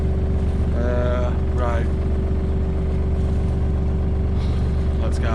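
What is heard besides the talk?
sailboat engine running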